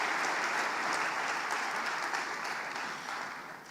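A church congregation claps together in a sustained round of applause, steady and fairly distant, tapering slightly toward the end with no voices on top.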